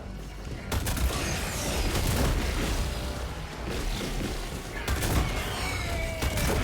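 Weapon fire at eggs in the video game Helldivers 2: dense, continuous bursts of gunfire and booming impacts layered over game effects and mechanical noise, steady and moderately loud throughout.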